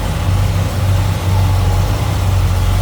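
The original numbers-matching 454 engine of a 1970 Chevrolet Monte Carlo SS 454 runs at a steady, loud, deep idle, a continuous low rumble heard close up with no talk over it.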